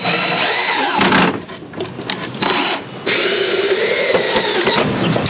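A power drill drives screws into a wooden planter box, its motor whirring in loud sustained runs broken by brief pauses and a rising pitch as each screw seats.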